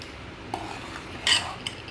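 A spoon clinks and scrapes against a pot while a chana dal mixture is stirred together, a few brief metallic taps over quiet background.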